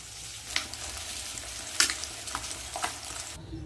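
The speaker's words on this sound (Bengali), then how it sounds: "ওদিকে তো মাছ ভাজা হচ্ছে" Tengra fish fry in a pan of oil, giving a steady close sizzle with occasional sharper crackles and pops, heard alone.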